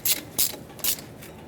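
Ratchet wrench clicking in three quick bursts while tightening a brake hose banjo bolt onto the front caliper of a 2011-2018 Ram 2500 pickup, close and fairly loud.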